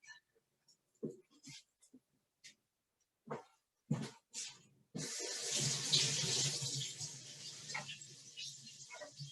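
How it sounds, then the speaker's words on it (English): Running tap water pours steadily into a sink as an onion is washed beneath it, preceded by scattered kitchen clicks and knocks, the flow fairly close and continuous for the second half. "I'm going to wash the onion before I chop it up."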